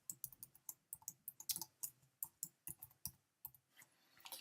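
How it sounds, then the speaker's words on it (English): Quick typing on a computer keyboard while working in Photoshop, a close, steady run of crisp key clicks with brief pauses and no talk. "I'll just quick type that again."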